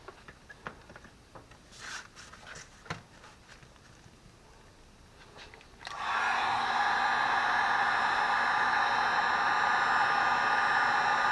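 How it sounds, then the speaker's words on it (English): After a few seconds of light handling and taps, a heat gun switches on and blows hot air with a loud, steady whirring roar that continues to the end. "Get the heat gun."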